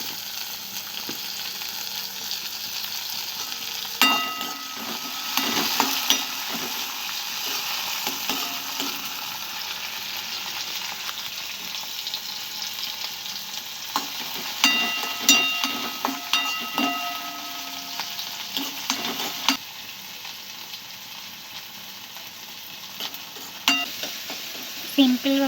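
Onions and tomato fry in a pan for masala Maggi, giving a steady sizzle punctuated by clattering bursts of stirring against the pan.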